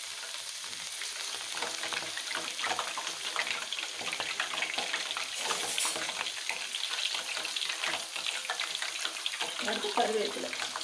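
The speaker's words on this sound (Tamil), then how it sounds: "இப்போ நல்ல எண்ணெய் பபிள்ஸ் வருதுங்க" Hibiscus flowers frying in hot, bubbling sesame oil for a homemade herbal oil, giving a loud, steady crackling sizzle with bursts of spattering, close up and continuous throughout.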